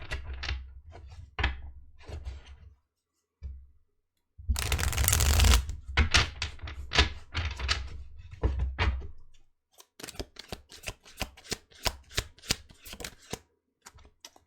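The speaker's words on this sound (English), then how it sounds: "I'm going to pull some message cards" Message cards riffled and shuffled in repeated bursts, with a loud flurry mid-way followed by rapid crisp flicks and taps as cards are pulled, close and alone.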